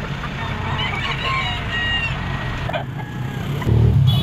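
A ten-month-old Talisay gamecock stag at a poultry market, clucking and calling amid crowd bustle and chatter, with other fowl and a passing car nearby.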